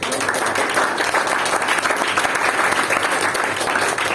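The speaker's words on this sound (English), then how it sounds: "Let's give a round of applause to And" An audience at a Toastmasters meeting of Brunei Speakers Club applauds, dense steady clapping that stays loud and even throughout with no voices over it.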